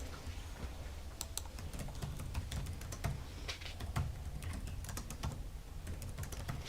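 Rapid, uneven keystrokes clatter on a computer keyboard in a quiet meeting room, a steady patter of close, crisp clicks with no talking.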